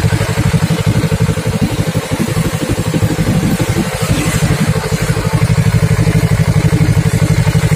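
A Kawasaki Ninja 250 FI motorcycle with a leaking coolant hose runs loud and close, a steady, rough, throbbing engine drone that swells slightly near the end.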